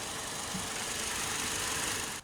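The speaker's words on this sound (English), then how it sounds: "This SR is powered by the Tacoma's base engine for 2022," Idle of a 2022 Toyota Tacoma SR Access Cab's 2.7-liter 2TR-FE naturally aspirated inline-four with iron block and aluminum head: a steady, close, even hum with a faint knocking texture, running alone before cutting off abruptly near the end.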